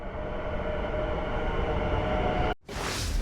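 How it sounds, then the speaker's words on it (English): A connecting train pulls into a station in the Netherlands, a steady loud rumble with high rail hiss that cuts out briefly near the end before a brighter whoosh follows. "within 5 minutes our connecting train arrives"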